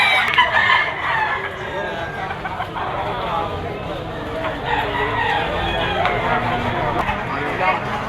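Roosters crow and hens cluck at a chicken auction market in Lipa, a busy overlapping chorus of near and far birds with people talking and bidding throughout.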